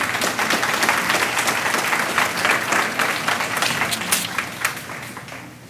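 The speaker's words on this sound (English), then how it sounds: "Please, a round of applause for Ms. Gillison." A conference audience applauds steadily, with dense clapping throughout that gradually thins toward the end.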